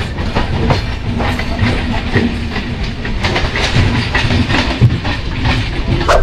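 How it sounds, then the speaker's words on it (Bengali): A Budge Budge local commuter train rolls past at a Kolkata railway station, its wheels clattering in a loud, continuous clickety-clack with rhythmic rail-joint knocks and a faint hiss, close by and steady throughout. "ওই যে একটা ট্রেন যাচ্ছে বজবজ লোকাল।"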